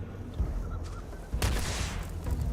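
Gunfire in the space RPG Starfield: a few quiet shots early, then a sudden loud burst of firing that carries on with rattling shots to the end.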